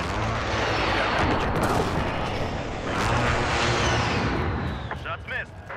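A first-person shooter battle with marked targets, strikes and an enemy UAV overhead delivers loud, sustained gunfire and heavy booming blasts throughout, with voices calling out under the barrage near the end.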